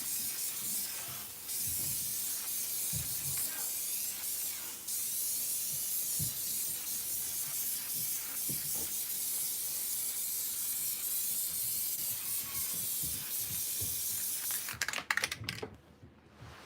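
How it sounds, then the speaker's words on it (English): An adhesive spray can hisses continuously beneath a tufted rug being finished, a steady close broadband spray lasting about fourteen seconds with a few brief handling knocks before it cuts off. "But you just kind of just spray under here."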